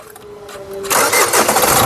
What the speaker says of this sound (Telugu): మళ్ళొకసారి ఇంజన్ స్టార్ట్ చేయి